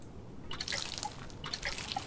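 Empty watering can sound effect in the farming video game Grimshire, heard as two short bursts of light dripping, splashing tones, each about half a second long, clear and close against a quiet background.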